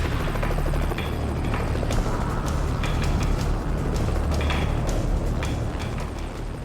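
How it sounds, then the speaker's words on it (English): A helicopter hovers low over a life raft on the open Atlantic in rough conditions, its rotor roar loud, close and unbroken for the whole stretch. "Time after time, the helicopter is forced back."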